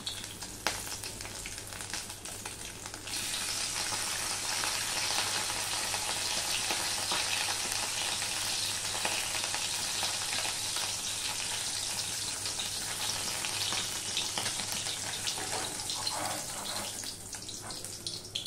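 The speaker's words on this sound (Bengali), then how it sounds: "ছোট মাছ অনেকে কাঁচা রান্না করে, কিন্তু আমি হালকা করে এইভাবে ভেজে নিচ্ছি মাছগুলো।" Small fish fry lightly in hot oil with a steady, bright sizzle that swells louder after a few seconds and holds evenly, with no talking.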